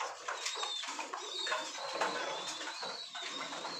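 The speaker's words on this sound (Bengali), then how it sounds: "দেখেন সবগুলো কবুতরই আলহামদুলিল্লাহ সুস্থ সবল" Lahori pigeons in a breeder room, several birds cooing in soft overlapping phrases close by, with light rustling and chatter from the flock around them.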